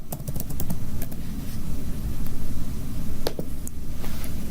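Keystrokes on a computer keyboard typing a text label, scattered clicks over a steady low background hum, with no one speaking.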